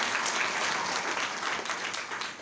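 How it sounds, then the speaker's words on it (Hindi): A crowd applauds at a Sunday church meeting, dense steady clapping that stays loud throughout. "ताली बजा दीजिए इनके लिए, ताली बजा दीजिए"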